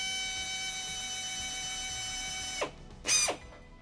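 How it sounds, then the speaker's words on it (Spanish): Power drill spinning electrical cables together to twist them for a tow-hitch wiring kit on a Dacia Dokker. A steady high whine runs for several seconds, then winds down, with a brief second burst. "Con la ayuda de un taladro,"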